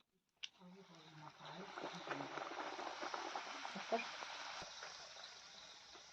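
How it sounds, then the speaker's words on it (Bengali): Spinach puris frying in hot oil, a steady close bubbling and sizzling hiss that fills the whole stretch after a short knock at the start, with a voice faintly audible at moments. "এখানে তাড়াতাড়ি করে পুরিগুলো ভেজে নিচ্ছি"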